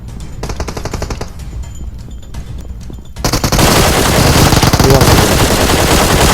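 Automatic gunfire in PUBG Mobile, starting as sparse shots and then bursting into loud, dense continuous fire for the second half, with faint voices underneath.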